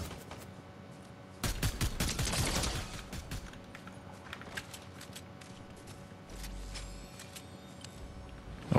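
Assault rifle fire in a competitive shooter game, a rapid burst of close, loud automatic shots followed by scattered single shots and quieter clicking, with no talking over it.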